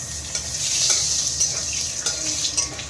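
Whole cumin, bay leaf and dried chilli fry in hot oil for a Bengali bhetki fish curry, giving a steady close sizzle with a few faint stirring knocks and no talk.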